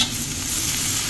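Cabbage and fish cake are stir-fried in a hot pan, giving a loud, close, steady sizzle with the scrape and toss of stirring over about a second, and no talking.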